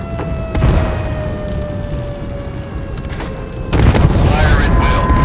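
In the naval combat game Force of Warships, heavy ship gunfire and shell impacts boom out, with one early blast and a louder, denser explosion burst near the end, under a game voice announcing damage and steady battle rumble.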